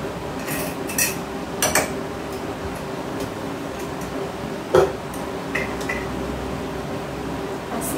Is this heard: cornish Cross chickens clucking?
no